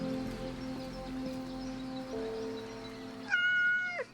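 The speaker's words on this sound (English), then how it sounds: "Oh, you can pet the cat." A cat meows in a video game, a short rising-and-falling meow near the end over a quiet background of sustained musical tones.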